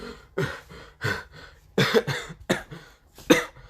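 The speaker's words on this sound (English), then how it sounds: "he was coughing up and other things" A person coughs repeatedly in short, harsh bursts close to the microphone, with brief pauses between fits.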